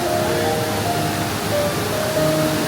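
A wide, low waterfall at Jiuzhaigou, about 150 m across and 2 to 5 m high, formed where a calcified dam collapsed, sends water sliding over stone steps at 2,629 m altitude. It makes a steady, dense, close-up roar that runs unbroken throughout with no voices.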